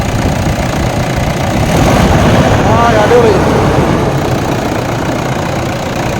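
A 2014 Toyota Innova Type 4 engine runs close by, swelling in a brief rev and then holding a steady rumbling idle while a voice speaks over it.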